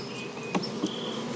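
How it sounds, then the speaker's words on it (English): Honey bees buzz steadily as they are shaken off a propolis-coated towel, a continuous insect drone with a couple of brief soft thumps from the shaking, close and moderately loud with no talking. "Now the towel is propolis down a little bit and got bees all over it, so I'm shaking that off."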